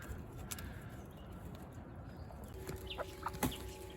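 Backyard hens cluck and murmur softly at a moderate distance, with a few sharper clucks and calls toward the end over faint background noise.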